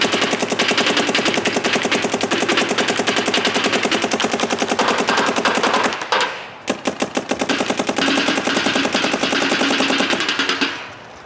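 Dye M3+ paintball marker firing Ultra Evil paint in long, rapid automatic strings, a dense crackling rattle of shots that stops briefly at about six seconds and then starts again, loud and close, with no talk.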